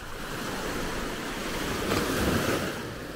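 Small ocean waves wash in at Maspalomas beach on Gran Canaria, a soft continuous surf with wind buffeting the microphone and one slightly louder wave swelling near the end.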